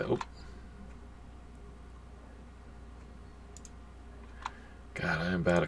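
Computer mouse clicks while working in Floriani embroidery software, a few faint ticks through the middle and a louder burst of clicking near the end.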